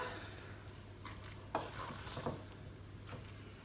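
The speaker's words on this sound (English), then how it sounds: "get a stir in there, lady, with your bingo wings" A spoon scrapes and clinks around a bowl of Christmas gin and brandy fruitcake mixture in a few quiet, uneven strokes, with two sharper knocks against the rim.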